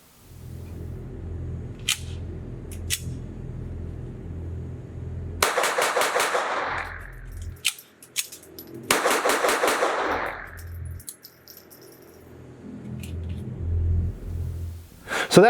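A Smith & Wesson M&P 22 full-size rimfire pistol fires in two quick strings of sharp, close shots. Isolated single shots and handling clicks come before and between the strings, over a low background hum.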